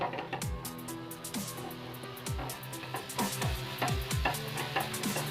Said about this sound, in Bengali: টমেটোগুলো নিয়েছিলাম ওগুলো একটুখানি চেপে চেপে ওগুলো মশলার সাথে মিশিয়ে দেবো